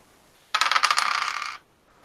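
Dice for a tabletop role-playing game clatter in a quick burst of sharp rattling clicks lasting about a second, close and crisp against a quiet background.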